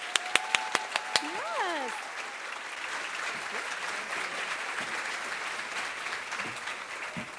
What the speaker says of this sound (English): So let's give Carrie a big round of applause.